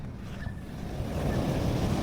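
Sea waves wash steadily onto a shore in Quirino Province, a broad continuous surf roar mixed with wind noise on the microphone, with no talking over it.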